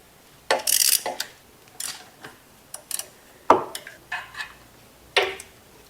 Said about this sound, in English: Then we loosen the 4 bolts to hold that in place.